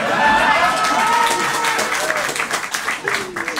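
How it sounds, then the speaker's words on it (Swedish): Comedy club crowd at the Humorbaren clapping and cheering in response to the comedian, a dense burst of applause with voices mixed in that thins out toward the end. "Kan ni applådera från Balkan?"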